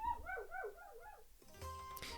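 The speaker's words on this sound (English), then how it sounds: "There is a dog whining at my door." A dog whining at a door, a series of rising and falling high whimpers for over a second, followed by a short burst of mixed noise.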